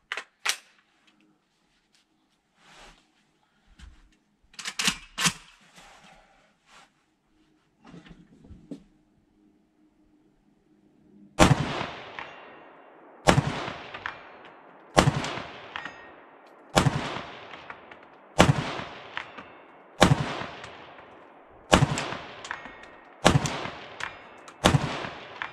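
Nine sharp shots from an Arsenal SLR-104FR Bulgarian AK-74 rifle fired at an outdoor range, evenly spaced about every one and a half seconds, each loud crack followed by a short decaying echo, with scattered softer handling noises before the shots.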